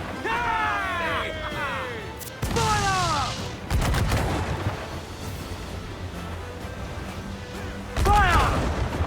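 Ship cannons firing in Assassin's Creed IV: Black Flag, with heavy booming volleys and crashes breaking out in bursts between loud shouted commands.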